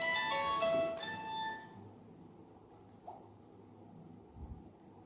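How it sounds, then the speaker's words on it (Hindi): A phone rings with a bright, melodic electronic tone for about a second and a half, then stops, leaving quiet room noise with a few faint knocks. "फोन की घंटी बजती है।"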